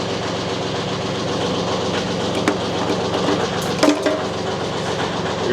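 A diesel engine runs steadily in cold weather after starting, giving a constant low rumble with a few clanking knocks, with no voices over it.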